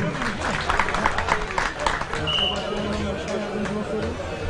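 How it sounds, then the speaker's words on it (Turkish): Crowd at a Turkish oil wrestling tournament quarter-final applauding a national wrestler champion, steady clapping and cheering mixed with babble, with an announcer's voice over the top. "alkışlıyoruz şampiyonumuzu"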